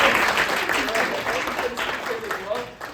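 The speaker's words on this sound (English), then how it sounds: "So just a quick round of applause for" Applause from the audience at a computer science speaker panel, a short burst of clapping that fills the room and then fades slightly, with some voices in the crowd.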